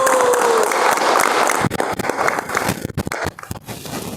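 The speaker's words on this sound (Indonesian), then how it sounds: "Tepuk tangan buat kalian." A crowd at a vocational high school gathering breaks into loud applause, dense clapping that later breaks into scattered claps and shouts as it fades, with a brief whistle-like tone near the start.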